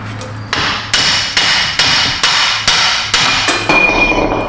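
Eight evenly spaced, sharp metallic blows from a big hammer striking a corroded part on a Buick Enclave, loud and close with a brief ring after each hit.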